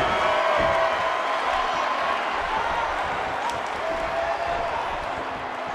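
A steady arena crowd roar with applause and cheering from the WWE 2K18 wrestling game runs unbroken beneath faint commentary.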